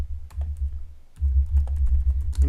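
A prompt is typed on a computer keyboard, the keys tapping in a quick, close patter over a low steady hum, with a brief lull near the middle before the typing picks up again.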